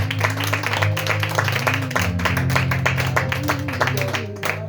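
Church congregation clapping in a steady, loud rhythm and calling out in acclaim, with music playing throughout and voices rising over the claps.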